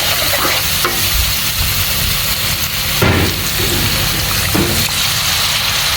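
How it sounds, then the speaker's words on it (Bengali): Ginger-garlic paste with turmeric, chilli, coriander and cumin sizzles loudly in hot oil, a steady close frying hiss broken by a few stirring scrapes. "মশলাটা ভুনা হয়ে গেছে। দেখেন, তেল উপরে চলে আসছে।"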